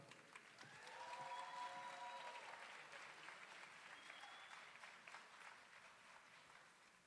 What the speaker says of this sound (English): Let's have another big round of applause for our Masters and Specialist graduates.